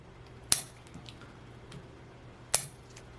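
Pruning shears snip through a young ficus cutting twice, two sharp crisp clicks about two seconds apart, close up and quiet in between.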